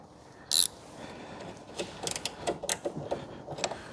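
A fuel filter fitting on an old 2CV-based Falcon S kit car, abandoned for 23 years, is tightened by hand, giving a sharp initial click followed by a string of small ratcheting and metallic taps up close.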